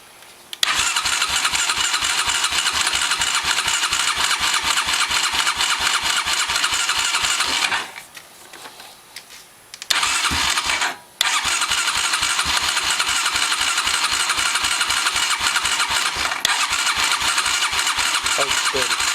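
A Honda Recon 250 ATV engine cranks and runs with a steady rapid putter, close and loud. It drops off briefly near the middle, sputters back to life, then carries on, with someone talking over it.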